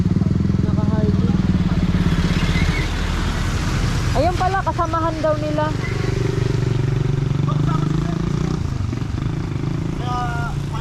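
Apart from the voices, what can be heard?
Harley-Davidson motorcycles passing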